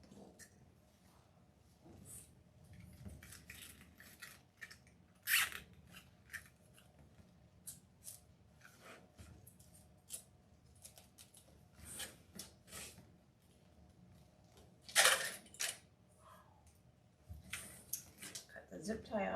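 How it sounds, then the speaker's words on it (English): Scissors snip and rub against a plastic zip tie while making a deco mesh flower wreath, giving sparse, sharp clicks and rustles scattered across a quiet background, with a few louder cuts standing out. "Cut the zip tie off."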